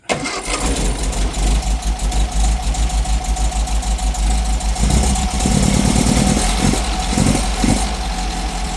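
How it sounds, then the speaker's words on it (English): A cold MG VA Powerlite engine turns over and settles into a steady, rough idle, loud and close, with a faint rhythmic chug throughout. "The engine is cold."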